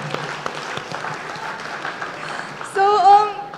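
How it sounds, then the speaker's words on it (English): Audience applause at a talk on AI-driven law enforcement, a dense steady patter of many hands clapping, moderately close, with a voice speaking over it near the end. "Give a round of applause."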